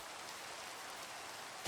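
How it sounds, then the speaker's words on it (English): Steady rain falls in the Minecraft video game as a continuous, even hiss of drops with no speech over it. "Maybe the rain will help them grow."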